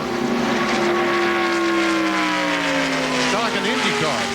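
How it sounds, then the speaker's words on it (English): Number 4 NASCAR stock car with a different exhaust system howls past at Daytona in the 1995 Pepsi 400, a loud sustained engine whine with several overlapping tones, dropping in pitch as other cars sweep by near the end. "It has a very high-pitched whine to it, the 4 car does."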